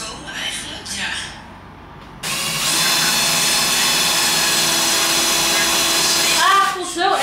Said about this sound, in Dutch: deze boor kan niet te diep gaan, hij is kleiner dan de tafel